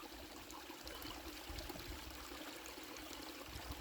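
A small stream carrying fallen leaves trickles steadily, a faint, continuous, even wash of water with no voices.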